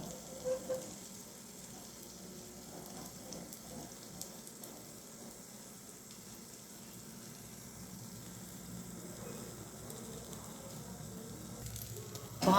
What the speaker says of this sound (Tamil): எண்ணெய் காஞ்ச உடனே இந்த முட்டையை கரண்டியில் ஊற்றிக்கணும்